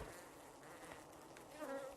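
Bees buzzing in the survival video game Arid, a dense continuous insect drone close by, steady and fairly loud with no speech.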